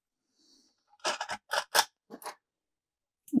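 Rod-building thread being cut off during custom fishing rod wrapping, with a quick cluster of crisp, close snipping clicks followed by a single faint click after a pause in a quiet room.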